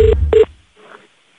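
Two short telephone keypad dialing tones in quick succession, clear and close, followed by a faint, brief trace of sound.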